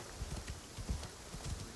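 Horse hooves clip-clop in the Assassin's Creed Shadows video game, a steady run of soft low thuds at moderate distance over a faint ambient bed.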